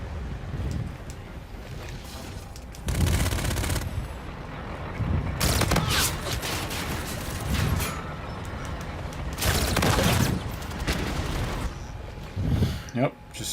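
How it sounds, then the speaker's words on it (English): Bursts of gunfire from shooting an enemy in Call of Duty: Infinite Warfare, several loud volleys spaced a few seconds apart over a steady background rumble. "You guys see me shooting this guy, right?"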